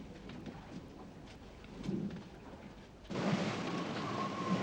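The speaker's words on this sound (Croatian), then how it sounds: "nesnosna kiša i dalje svakodnevno lijeva" Heavy rain drumming down steadily during a sailing voyage near Tierra del Fuego, a dense hiss that swells sharply louder about two-thirds through and stays loud to the end, with no voices.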